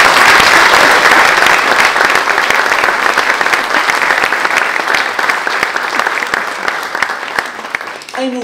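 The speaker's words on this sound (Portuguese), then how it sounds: "uma salva de palmas à memória desta gente" Loud, close applause from an anniversary concert audience, many hands clapping densely at first, then slowly thinning and softening toward the end.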